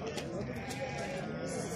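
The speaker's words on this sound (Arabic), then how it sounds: "كلهم خرفان" Sheep bleat at a crowded livestock market in Morocco, wavering calls rising over a dense background of people talking and general market bustle.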